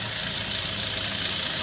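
A truck's heavy engine idles in a steady, low, continuous rumble close by as the vehicle pulls away, with no voices.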